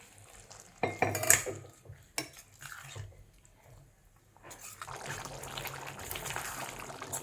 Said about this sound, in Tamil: இனி இதுக்கு தேவையான அளவு தண்ணி சேர்க்கலாம்.